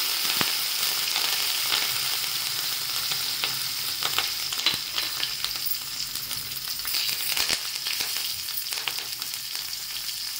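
Tempering of mustard seeds, cumin, asafoetida and curry leaves in hot oil, a continuous close hiss and sizzle with scattered crackles and pops throughout, with no talk.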